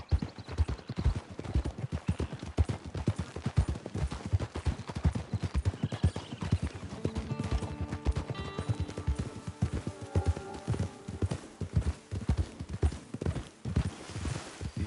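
Horse hooves clip-clop in a quick, steady gallop rhythm in the video game Red Dead Redemption 2, continuous and fairly close, with faint music tones rising in the second half.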